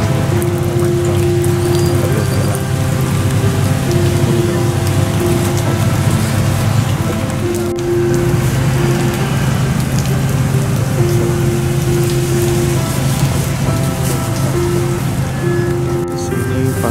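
Steady rain pours down at a vegetable market in Kundasang, a dense, continuous patter on surfaces that stays loud and even throughout, with no talk heard.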